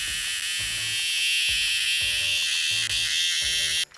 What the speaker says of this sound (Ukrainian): Це мільярди цикад, які синхронно вибираються на поверхню після 17 років тиші під землею